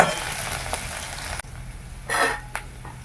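Grated ginger and garlic hitting hot oil in a kadai, a steady close sizzle with brief louder bursts of spitting and stirring, no voices.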